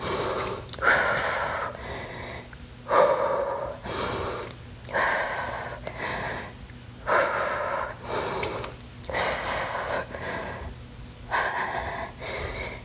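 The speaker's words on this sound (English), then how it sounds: "Deep breath." Deep, rhythmic breathing during a yoga sculpt pose, with about six close, audible breath cycles of roughly two seconds each, alone without talk over a faint steady background hum.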